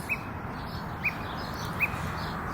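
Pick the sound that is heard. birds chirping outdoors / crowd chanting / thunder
birds chirping outdoors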